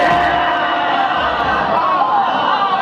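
A crowd at a religious gathering chants salutations and slogans in unison, a loud, sustained mass of voices rising and holding throughout.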